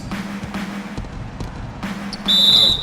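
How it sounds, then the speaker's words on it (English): A referee's whistle blows in an NBA 2K16 basketball game, a single sustained shrill tone near the end, rising above a steady arena crowd murmur and ball bounces. "the officials whistle a foul on the shot"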